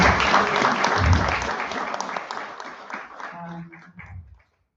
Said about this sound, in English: I'll ask that Shem City thank you and give them a hand of applause as I read the short bio.